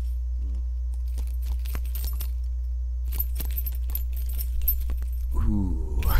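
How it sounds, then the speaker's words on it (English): A bunch of keys jingled close by in a series of bright metallic rattles over a steady low hum, followed by a brief vocal sound at the end. "Jingle some keys."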